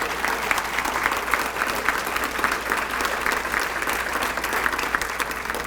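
A large audience applauds steadily for the 28th class of Hall of Fame inductees at an induction ceremony, a dense, even wash of many hands clapping throughout with no speech over it.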